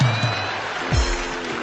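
An audience claps steadily in a reverberant hall, with a low murmur and a deep tone underneath.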